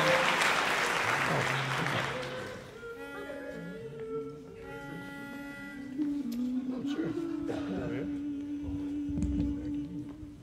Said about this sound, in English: give him a big old round of applause